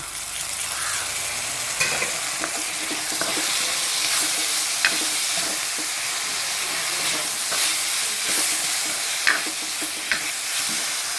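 Ground garlic and ginger paste stirred into onions frying for a beef curry with coconut pieces, giving a loud, continuous close sizzle with recurring scrapes and knocks of a spoon against the pan.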